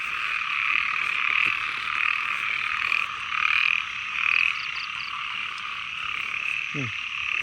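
Many frogs croak together in a dense, pulsing chorus beside rising floodwater, with loud waves of calling swelling and fading and a few nearer distinct croaks, no speech.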